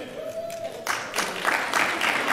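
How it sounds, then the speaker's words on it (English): Conference audience at a sales talk breaking into scattered clapping after a brief tone, the hand claps building into a moderate, uneven patter that continues to the end. "Clap if you think we're in a conference."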